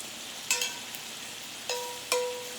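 Bacon sizzles in a pan over medium heat, a steady close hiss broken by a few sharp utensil clinks against the pan, with no talking.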